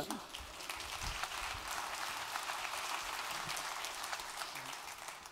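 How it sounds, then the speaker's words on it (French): An audience at a chamber of commerce awards evening applauds two comedians, steady, moderately distant clapping from a crowd with some low murmuring beneath. "on peut les applaudir aussi"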